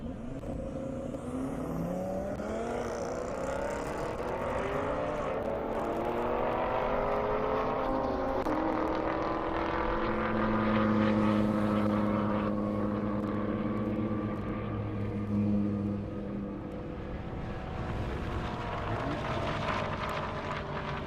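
Audi RS3 and Chevrolet Camaro SS drag racing side by side down a half-mile airport airstrip, engines roaring steadily for the whole stretch with rising and falling tones, loud and sustained with no talk over them.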